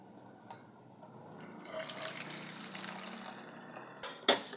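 Boiled herbal water strained into a vessel, a soft trickle and pour that builds gradually from near silence, with a sharp clink near the end.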